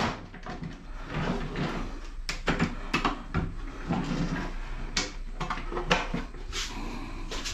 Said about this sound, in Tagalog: Tanggalin muna natin yung pinto at saka yung mga shelves.